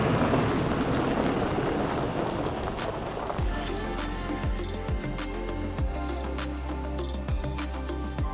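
Steady rain falls on a cloudy day around a Toyota Land Cruiser overland camp, a dense continuous patter with occasional heavier drops and soft low thuds, with no talking.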